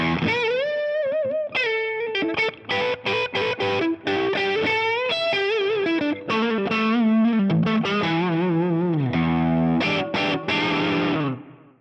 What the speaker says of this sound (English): I'm playing the FM3 from Fractal, and I'm using the Messer Lone Star model with a little bit of the Tone of Kings drive and a bit of delay and reverb